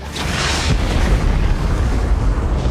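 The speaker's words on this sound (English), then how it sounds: "With the explosion, the whole building shakes." A grenade thrown against a wall inside a building in an action film explodes, a loud, heavy boom that rolls into a sustained rumble with no voices.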